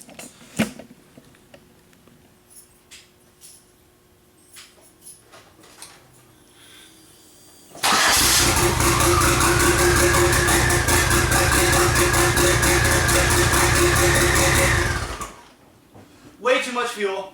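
Car engine fitted with big-cc injectors cranking and catching, then running loud and rough on far too much fuel for about seven seconds before cutting off, with quieter shop noises before and after.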